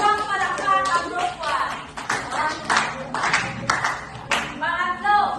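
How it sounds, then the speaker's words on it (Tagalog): A classroom group gives a round of applause, with several bursts of lively hand clapping and voices mixed in, heard close and fairly loud. "Bigyan natin ng isang palakpak ang group"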